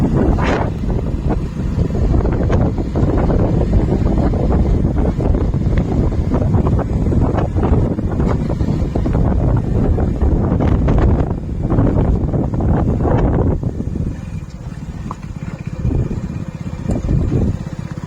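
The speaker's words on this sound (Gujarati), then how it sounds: "પવન ફૂલ છે એટલે અવાજ થોડો ઓછો આવશે" Loud, constant buffeting of strong wind against a microphone, a rough low roar with gusty surges throughout, easing a little near the end.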